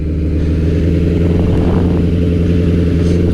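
A BMW K100 motorcycle engine idling as it warms up, a loud, steady and close low rumble with an even pulsing throb and no talking.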